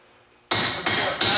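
A smaller hammer strikes a Ford Windstar wheel bearing with three sharp, loud metallic blows in quick succession, close up, each one ringing briefly.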